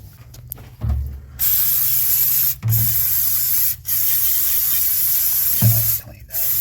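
Brake cleaner hisses onto the brake line of a 1992 Chevrolet Silverado C1500 in three long, loud, close spray bursts with short breaks between them.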